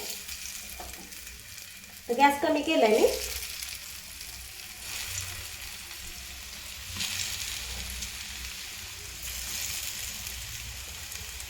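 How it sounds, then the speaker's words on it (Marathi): Coriander vadi frying in oil in a pan over a low gas flame, a steady soft sizzle with a brief louder burst of crackling early on, and a short spoken remark over it. "तर आता आपण तव्यात वडी ठेवून घेऊया"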